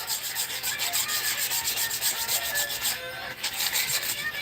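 Sandpaper lightly roughs over a Dollar Tree wooden craft piece, a steady close scratchy rubbing in quick back-and-forth strokes with a brief pause near the end, no voices over it.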